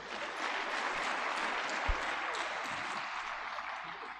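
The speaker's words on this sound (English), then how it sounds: "Please, a round of applause." An audience at a military convocation ceremony for graduating cadets claps in a continuous, even wash of applause, with one dull thump partway through and no clear speech.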